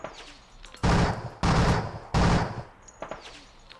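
Three loud, close bursts of machine-gun fire from the Kharkov '42 wargame, each about half a second long and evenly spaced, with quieter background noise between them.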